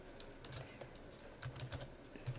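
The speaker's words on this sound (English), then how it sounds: "So I'm going to go ahead and type in a title." Quiet, irregular keystrokes on a computer keyboard as a post title is entered into a WordPress site, soft clustered clicks with short pauses, heard alone without talk.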